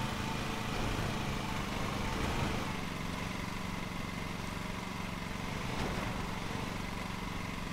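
A lawn mower engine idles in Lawn Mowing Simulator with a steady, close, even mechanical drone that holds at constant loudness throughout, with no talking.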